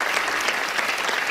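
Dense studio audience applause on the Dr. Phil show, a steady, even wash of many hands clapping throughout.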